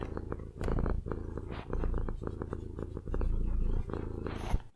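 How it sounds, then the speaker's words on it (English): A house cat resting on someone's lap purrs steadily and close by, a low rumbling pulse that swells and dips in rhythmic waves for the whole stretch, with no talking over it. "I have a cat on my lap right now."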